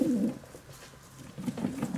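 Janssen racing pigeons give soft, low cooing in two close bursts, one at the start and another near the end, with a quiet pause between.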